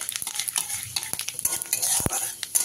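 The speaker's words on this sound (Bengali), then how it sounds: "দিয়ে দিচ্ছি ফোড়নে 2টো শুকনো লঙ্কা, একটা তেজপাতা এইভাবে ছিঁড়ে নিয়ে, আর দিচ্ছি হাফ চামচেরও কম 5 ফোড়ন, আর দিচ্ছি অল্প পরিমাণে মৌরি। দিয়ে ফোড়নটা ভাজা করে নিতে হবে" Dry red chilies, a torn bay leaf, panch phoron and fennel seeds sputter in hot oil, a steady crackling sizzle with scattered sharp pops and a few scraping stir strokes, close and fairly loud, no voices.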